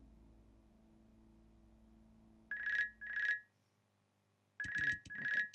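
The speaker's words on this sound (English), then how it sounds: "Please allow me to pick up the phone." An old-style telephone rings in the video game Vincent The Secret of Myers, two clear double-trill bursts separated by a pause, loud and close over a quiet low ambient hum.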